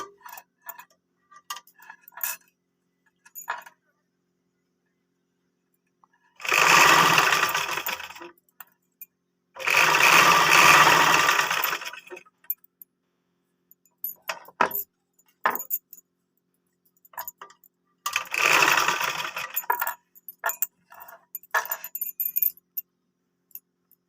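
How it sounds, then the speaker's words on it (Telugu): A sewing machine stitches a blouse in several short bursts separated by quiet gaps, with light clicks and fabric handling between runs, close and fairly loud, no talking. "బ్లౌజ్ అదన్నీ నీట్గా చూసుకొని నెమ్మదిగా స్టిచ్ చేసుకోవాలన్నమాట"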